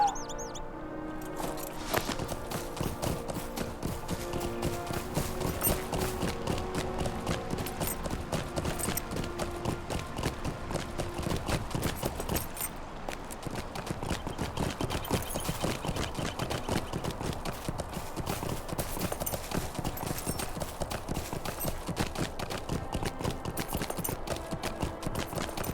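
A horse's hooves clip-clop steadily on a road in the fantasy online game Lord of the Rings Online, a quick, even clatter with a game music bed underneath.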